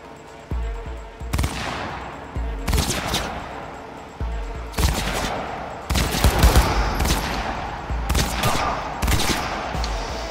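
Rapid bursts of gunfire from headshots in the video game Cyberpunk 2077, several loud volleys repeating in quick succession across the whole stretch.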